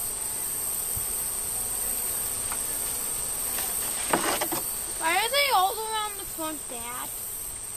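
Bees buzz around the spot where an old hive sat, a constant insect drone throughout, while a person speaks briefly in the middle and near the end.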